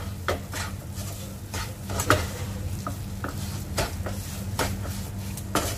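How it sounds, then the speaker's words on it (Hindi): A spoon stirs roasted black gram mixture into instant khoa in a pan, giving intermittent soft scrapes and clinks against the metal over steady low background hum. "अब हम इसमें डालेंगे भुने हुए चने का मिक्सचर। इसे हम अच्छे से मिक्स कर देंगे इसमें।"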